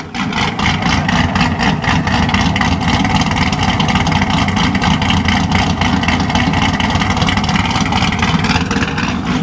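A C6 Corvette engine runs steadily at a loud, close, continuous rumble with no revving peaks and no voices.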